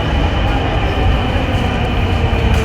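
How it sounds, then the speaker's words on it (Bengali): A metro rail train heard from on board, a loud, steady rumble of wheels and motor that fills the space without letup. "এখন আমরা মেট্রো রেলে ওঠার জন্য"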